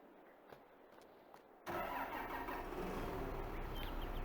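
In a farming video game, a quiet, faint hum gives way abruptly to a tractor engine starting up and settling into a steady, loud rumble.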